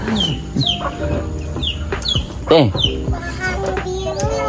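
Chickens cluck repeatedly, several birds near and far, with a louder squawk midway; faint background voices and outdoor noise underneath.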